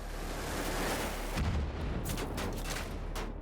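Game gunfire in the shooter Wolfenstein: The New Order, a continuous dense roar of shots and booms with a heavier low blast mid-way, loud and unbroken with no talking.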